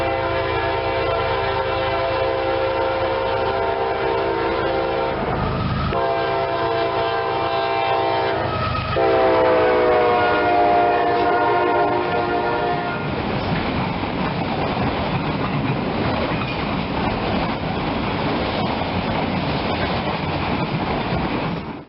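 A freight train rolls past close by, its horn sounding in long harmonic blasts for the first half, then giving way to a loud, steady rumble of wheels and cars.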